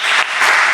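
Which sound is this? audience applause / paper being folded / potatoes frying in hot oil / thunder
audience applause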